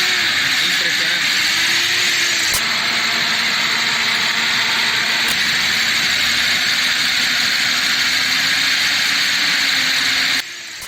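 A car engine idles on char gas alone, its gasoline and LPG lines disconnected, producing a loud, steady, continuous hum and rumble for about ten seconds with no voices over it.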